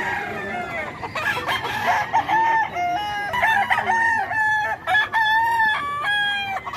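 Several gamecock roosters crowing loud and close at a game farm in Bocaue, with overlapping calls and clucking.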